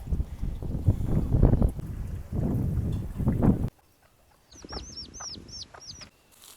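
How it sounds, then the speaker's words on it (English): Free-range farm chickens clucking beside a river, a run of short, bright calls from close by after a stretch of rumbling wind noise, with no talking. "Chickens have come to the river."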